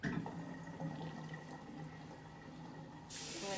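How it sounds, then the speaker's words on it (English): Water runs and gurgles steadily out of a kitchen sink after the plug is pulled during dishwashing, a continuous draining rush with a brighter splash near the end. "Then what I'm going to do is I'm going to pull the plug out of the sink"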